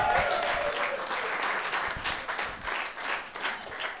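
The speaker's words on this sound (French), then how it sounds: "applaudissez-vous, Colin" Audience applause at a French-language stand-up comedy show, a steady wash of clapping from a live crowd that swells and dips slightly over about four seconds, with no talk over it.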